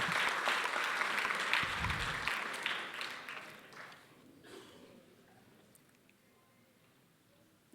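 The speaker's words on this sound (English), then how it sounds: "big round of applause?" A gala dinner crowd gives a hearty round of applause that starts full and bright, then thins over several seconds into sparse claps and fades to near quiet.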